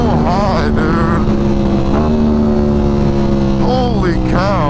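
A Ducati Panigale V4 SP2 with a newly installed aftermarket exhaust, loud and close, rising through high-pitched revs in rippling sweeps over a steady engine drone, with voices briefly audible.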